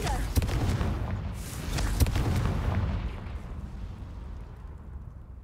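A Confringo blasting spell explodes in the video game Hogwarts Legacy, sending out sharp booming blasts, two strong hits in quick succession over heavy rumble, followed by a fading low roar.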